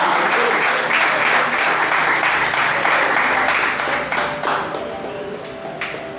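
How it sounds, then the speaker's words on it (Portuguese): A church congregation applauding together, dense sustained clapping that fills the room continuously for several seconds, loud and close, thinning slightly toward the end. "Irmãos, aplaudam a esse Deus"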